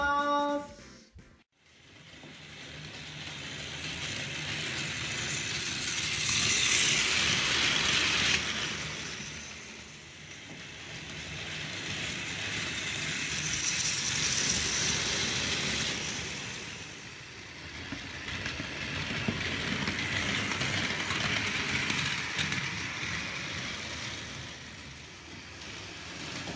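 Plarail plastic toy train running over a plastic track layout with a bridge crossing, a steady mechanical whir and rattle that swells and fades in waves as it circles nearer and farther, with no talk.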